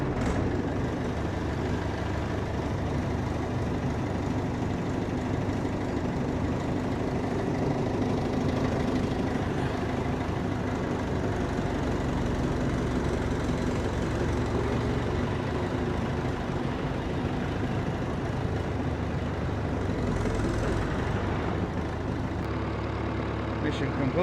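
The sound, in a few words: farm tractor engine started and running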